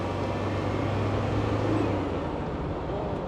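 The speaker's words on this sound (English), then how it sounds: "Hope they can hear the turbo." A Land Rover 300 Tdi 110 diesel engine with turbo runs on a dyno, giving a loud, steady rumbling drone that swells slightly then eases off, close and alone.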